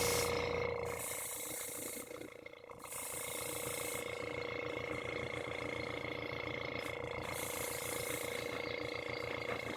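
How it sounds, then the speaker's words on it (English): An airbrush sprays green paint onto a DIY Green Lantern cosplay mask, giving short bursts of soft hiss over a steady compressor hum with a few faint tool noises. "I've got some green in my airbrush. I'm going to go ahead and paint it up."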